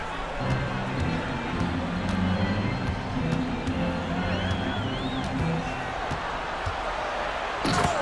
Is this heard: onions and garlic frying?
no